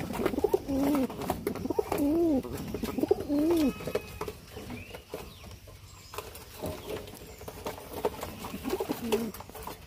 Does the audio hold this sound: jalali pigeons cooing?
yes